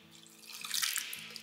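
Soaking water from chana dal is poured into a pressure cooker as a brief, soft splashing trickle that swells midway, with a low steady hum underneath.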